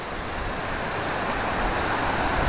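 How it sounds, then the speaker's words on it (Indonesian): Munduk waterfall, a fairly tall fall with a modest flow, sends a steady, dense roar of falling water that holds constant and slightly swells, with no voices over it. "air terjun ini tergolong cukup tinggi ya"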